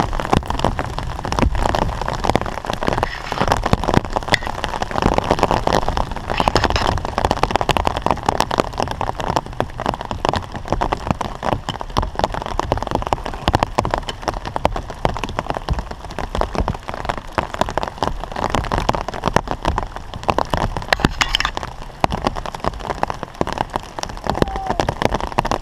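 Heavy rain pours steadily onto a river, a dense continuous hiss of drops with no letup and no voices.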